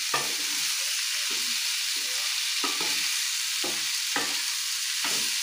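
Fried prawns are stir-fried with taro stolons in a pan under a constant hiss of sizzling oil, with a spatula scraping and tossing in rhythmic strokes about once a second.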